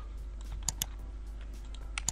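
Blender keyboard shortcuts tapped on a computer keyboard while modeling a cartoon character, a few quick, soft clicks spread over a steady low hum, close and quiet.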